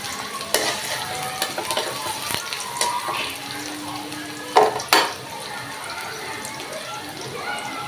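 Onions for an eggplant and hilsa curry fry in a pan while being stirred, steady sizzle broken by scraping and clinking of a spatula against metal, with light talk underneath.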